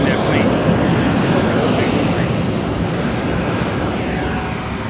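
Aircraft engine running at an engine test bay at London Heathrow Airport, a steady, loud broadband roar that holds throughout with no breaks, with a faint voice mixed in under the noise.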